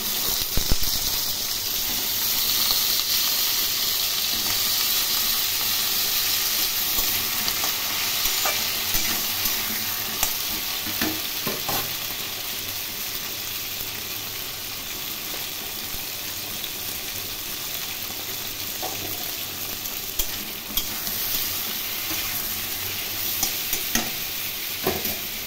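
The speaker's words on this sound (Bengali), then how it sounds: "নুন হলুদ দিয়ে ভেজে নেব।" Pointed gourd pieces frying with salt and turmeric for a Bengali prawn and potato curry, giving a steady broadband sizzle with occasional stirring scrapes and clatter throughout, fairly close, with no talking.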